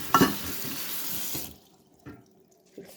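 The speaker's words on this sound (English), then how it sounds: "Put some water in" Tap water runs into a jar of sprouting seeds for rinsing, a close splashing pour for about a second and a half that cuts off, followed by a few soft clinks and drips.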